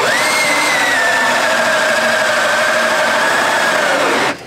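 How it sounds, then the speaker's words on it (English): Cordless drill boring a hole through hard fiberglass on a boat, a continuous high motor whine that sags slowly in pitch as it strains, then cuts off abruptly near the end. "currently drilling the hole"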